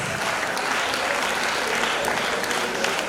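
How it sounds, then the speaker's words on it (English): A crowd at an International Women's Day event claps as the governor returns to her seat, a steady, dense wash of applause with no break for the full three seconds. "Let us sustain that applause"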